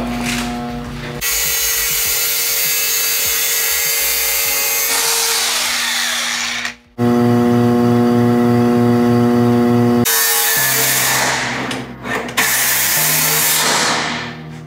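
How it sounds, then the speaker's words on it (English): Power tool cutting off the rear bumper of a BMW E30, loud, close and sustained, with harsh grinding bursts broken by a short pause, then a steadier whining run and more ragged cutting to the end. "I'm gonna cut the rear bumper off completely"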